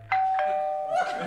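A front-door doorbell rings with a bright two-tone chime, loud and close, with a brief voice-like sound near the end.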